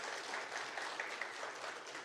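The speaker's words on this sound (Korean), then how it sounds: "우리 박수로 우리 환영하겠습니다." A church congregation claps to welcome a new pianist at a Sunday service, steady applause from many hands filling the room without pause.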